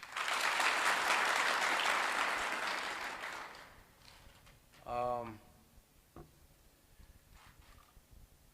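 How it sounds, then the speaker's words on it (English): Audience applause at a formal national security ceremony, loud sustained clapping that fades out over a few seconds, followed by a short spoken phrase and quiet room noise. "Let us give her another applause."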